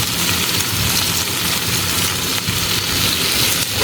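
Finely chopped onions, about 500 grams, frying in oil already used for okra, giving a dense, loud, steady sizzle throughout with no talking.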